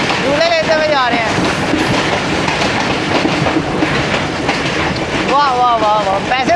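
Millat Express passenger train rolling along rails, a steady loud rumble with clattering wheels throughout, while people talk excitedly over it.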